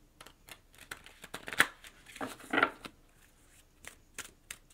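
Tarot cards are shuffled close by, a brief series of soft riffling flicks and slides with a couple of louder bursts of cards sliding together, no talking.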